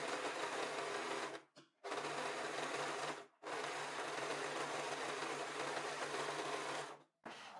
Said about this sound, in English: You can just use your normal sewing machine, go in the zigzag stitch option and do a zigzag stitch.